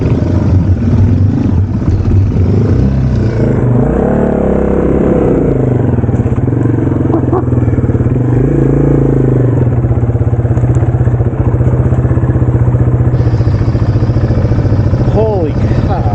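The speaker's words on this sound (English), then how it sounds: "That is the most mud I've ever been through on a motorcycle." A Yamaha TW200 motorcycle fitted with ATV wheels churns through deep mud off road, its engine loud and close throughout, laboring and revving with clattering, while a rider's voice talks and exclaims over it.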